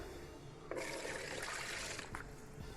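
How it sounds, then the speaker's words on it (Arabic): Milk pours into a mixing bowl while pizza dough is being made, a steady liquid splash and trickle that starts abruptly and runs for about a second and a half before tapering off, close and fairly quiet. "هحط الاول هنا اللبن"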